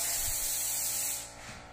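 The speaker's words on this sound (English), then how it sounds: "it sprays super consistent and it fans the lacquer out really nice" A Kremlin paint sprayer fans lacquer onto wood in a steady, close hiss that tapers off near the end of a short burst, with no talk.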